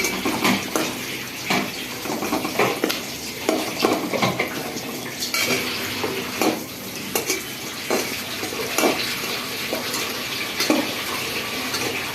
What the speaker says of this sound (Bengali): পেঁয়াজ লাল হওয়া পর্যন্ত অপেক্ষা করব